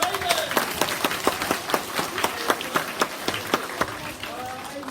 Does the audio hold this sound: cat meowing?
no